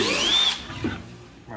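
A cordless drill with a dying battery whirs in a brief high-pitched burst that quickly fades, followed by quieter handling noise.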